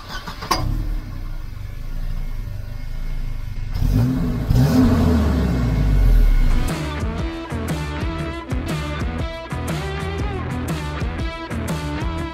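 A 1988 Volvo 240 accelerates onto the Autobahn, its engine note swelling and revving for several seconds before music takes over.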